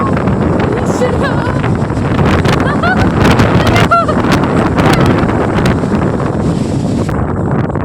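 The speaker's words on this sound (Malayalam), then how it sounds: "പെട്ടെന്ന് കാറ്റുണ്ടായില്ലേ" Strong storm wind in Thrissur, Kerala roars and buffets the microphone in a steady, loud rush, with faint background voices under the gusts.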